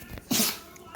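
A single short, sharp sneeze from a Rottweiler puppy, close and fairly quiet, with a brief soft noise just before it.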